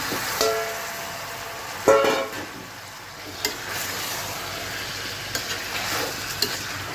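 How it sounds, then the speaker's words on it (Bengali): Fresh boneless chicken pieces go into a pan of fried spices, sizzling steadily with a few sharp scrapes and clatters of stirring, close and fairly loud, no voices. "মশলাগুলো কিন্তু মোটামুটি ভাজা হয়ে গিয়েছে এখন জাস্ট এই যে মাংসগুলো দিয়ে দিচ্ছি"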